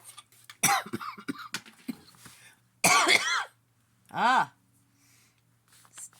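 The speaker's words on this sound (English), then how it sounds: "Still have that cough." A few sharp coughs and throat clearing, close and loud, separated by quiet pauses, with a faint low hum underneath.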